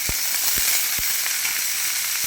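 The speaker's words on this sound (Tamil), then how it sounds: "ஒரு பேனில் எண்ணெய் ஊற்றிட்டு இந்த இதெல்லாம் போட்டு வதக்கிக்கலாம்" Drumstick leaves, onion and cumin sauté in oil in a pan, a loud continuous hiss and sizzle with a few dull knocks from stirring, close and steady.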